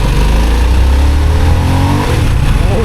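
A Harley-Davidson Sportster S 1250 motorcycle engine pulls hard under acceleration, a loud, continuous deep roar with rising pitch and heavy wind rumble, recorded close while riding.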